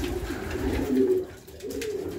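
Pigeons coo steadily in a loft on a frosty winter day, the birds healthy after a salmonella treatment; their low, rolling calls repeat close by in overlapping phrases, with no talking.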